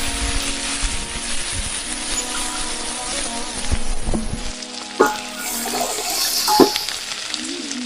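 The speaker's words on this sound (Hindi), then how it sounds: "अब इसमें हम अपना लहसुन अदरक का पेस्ट शामिल कर लेंगे।" Ginger-garlic paste sizzles and fries steadily in hot oil with mutton in a pan, a continuous close crackle with a couple of sharp clinks of a spoon near the end, no talking.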